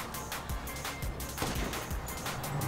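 Rapid gunfire bursts crack repeatedly over a dense, busy GTA V Online soundscape, several sharp sniper shots spaced irregularly across the moment.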